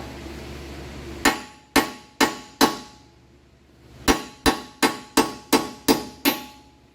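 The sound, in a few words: ball peen hammer knocking out wheel stud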